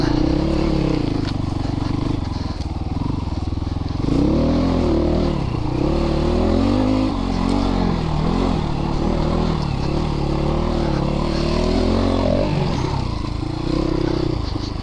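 A Christini AWD 250DS all-wheel-drive dirt bike revs and strains nearby, its engine note rising and falling continuously with wheelspin-like surges and rattling mechanical clatter throughout.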